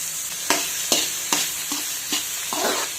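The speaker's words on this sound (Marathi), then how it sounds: "तेल टाकून घेऊयात थोडंसं, म्हणजे मग कांदा आणि टोमॅटो चांगला परतून होईल." Onion and tomato fry in oil in a pan, with a steady sizzle broken by about six scraping strokes of a spoon stirring them, close up and with no talking.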